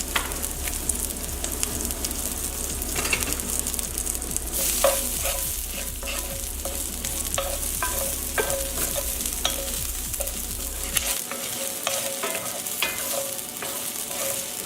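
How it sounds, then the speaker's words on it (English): Garlic sizzling steadily in a hot pan for a tomato sauce, a loud continuous frying hiss with occasional stirring scrapes and clicks, close and with no talking. "Add the garlic. You're going to let this cook for about 30 seconds."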